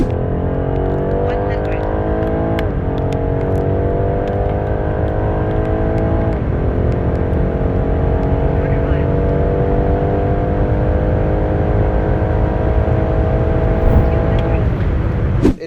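Tuned Stage 1.5 BMW X3 xDrive30e G01 hybrid SUV pulling hard from 100 to 200 km/h, a loud continuous engine roar climbing in pitch through each gear, with brief dips at two upshifts, heard from inside over steady road noise.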